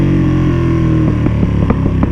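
A Ducati Panigale V2 rolls off the throttle, its engine droning close and loud while sharp exhaust pops crackle in a quick irregular series on deceleration.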